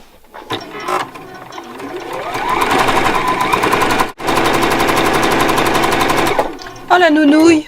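A domestic sewing machine running seams along both sides of a garment piece, rattling in fast, loud, continuous bursts with a brief stop in the middle, preceded and followed by short spells of talking.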